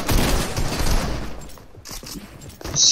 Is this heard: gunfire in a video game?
yes